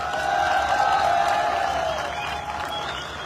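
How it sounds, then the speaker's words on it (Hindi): A crowd at a business seminar in Chandigarh applauds steadily for a few seconds at a fairly even level, under a sustained ringing tone that runs through the clapping. "इसके लिए आप लोगों को तालियां बजानी चाहिए"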